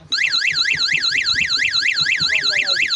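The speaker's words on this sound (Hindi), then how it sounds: "ये हॉर्न सही से काम कर रहा है।" An e-rickshaw's reverse horn being tested, a loud electronic warbling tone that sweeps up and down in rapid regular cycles and sounds continuously, close by with faint background clatter.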